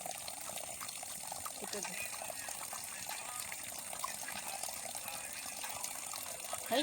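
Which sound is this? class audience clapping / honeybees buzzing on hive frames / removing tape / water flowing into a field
water flowing into a field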